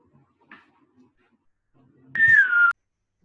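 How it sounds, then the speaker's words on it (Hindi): A single short whistle, about half a second long, sounds once on an online class call against an otherwise quiet background, with faint thumps beforehand. "किस बात की सीटी बज रही है?"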